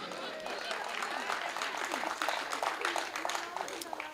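An audience claps and applauds at a Hindi comedy poetry gathering, a dense sustained patter of hands mixed with voices and chatter throughout.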